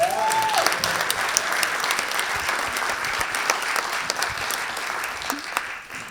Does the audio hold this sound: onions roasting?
no